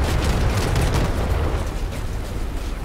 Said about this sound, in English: Oh, mandrake shooting.